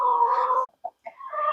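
Hens clucking inside a chicken coop, one close bird giving a sustained call, then a pause with a couple of short clucks before another call rises, clear and near with no talk.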